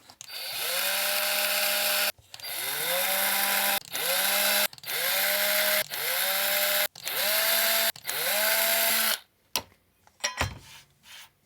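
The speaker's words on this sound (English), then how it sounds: "We are going to pre-drill this." A power drill pre-drilling holes in an Amiga 2000 computer case, with six loud close bursts of motor whine spinning up and stopping, followed by a few short rattles and clunks.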